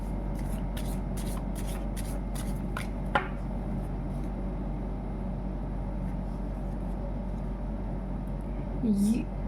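Tarot cards, stiff and sticking together, are shuffled in quick papery riffles and snaps, then a card is drawn, against a low steady room hum, with a voice talking.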